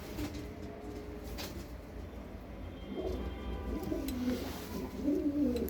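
Pigeons in a pigeon shop in Kocaeli, soft repeated cooing from several birds against a low background murmur, growing a little louder toward the end.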